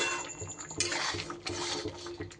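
Metal lid set down over a cooking pot in a home kitchen, with light clinks and clatters close by and a soft bubbling wash beneath, quick and brief.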